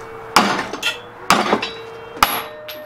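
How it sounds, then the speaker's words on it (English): Three sharp metallic hammer strikes on steel ring out at even intervals, each followed by a brief clinking ring, close and clear. "You have a really big hammer."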